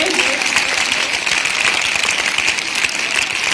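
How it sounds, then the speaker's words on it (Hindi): Audience at a school award ceremony claps for the children, a steady, dense burst of applause held at an even level throughout. "इन बच्चों के लिए जोरदार तालियां लगाइए"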